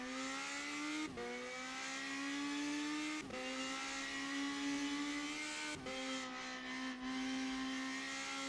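Radical race car in rFactor 2 sliding through a corner, its engine holding a steady loud drone that dips briefly several times as the throttle lifts and comes back.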